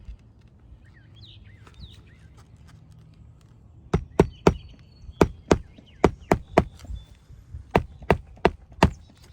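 A hammer drives nails into roof shingles in bursts of sharp, loud strikes, several quick blows in a row and then a pause, with faint birdsong in the background.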